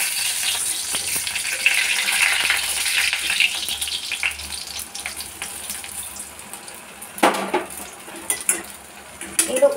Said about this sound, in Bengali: তো এগুলো আমি এখন আস্তে আস্তে উল্টে দেবো।